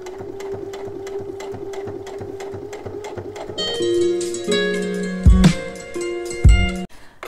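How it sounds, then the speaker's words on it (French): A sewing machine runs a steady rapid stitch along the edge of fabric, 1–2 mm in, for a cheque book holder, then the motor revs with louder mechanical clunks near the end. "je vais venir coudre à 1 ou 2 mm le long du bord, simplement pour le maintenir"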